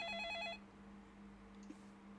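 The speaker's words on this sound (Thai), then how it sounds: "รับโทรศัพท์ ใครขยันโทรมาจังเลย" A phone rings in the Roblox game Ice Cream Shop Experience: a short burst of warbling electronic ring tones that cuts off after half a second, leaving a low steady hum.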